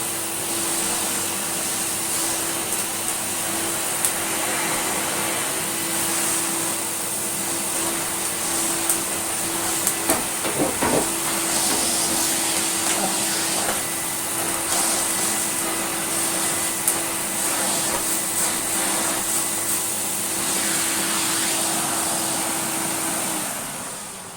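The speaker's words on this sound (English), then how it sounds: "and we can do some dry vacuuming with our very overkill carpet cleaner" Philips Triathlon 1300 wet, dry and shampoo carpet cleaner dry vacuuming with its floor tool, giving a loud steady motor whine and airflow rush that runs alone and unbroken the whole time, with brief bumps partway through.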